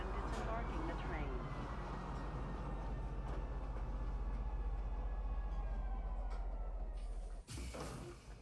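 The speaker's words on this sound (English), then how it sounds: "Now arriving, Tisa Spaceport. Please watch your step when disembarking the train." Star Citizen train pulling into Tisa Spaceport, a steady loud rumble of rolling rail cars with a slowly falling whine, then a brief hiss as it comes to a stop near the end.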